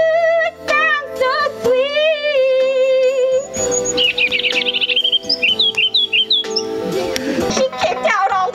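Sung melodic vocal lines imitating a bird's chirping song, with high warbling trills and whistled chirps over music in a scary-themed song about singing birds; loud and continuous.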